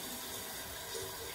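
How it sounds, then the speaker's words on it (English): Water runs steadily from a tap into a sink during a hand wash, making a faint, even splashing rush. No one speaks. "Wash my hands."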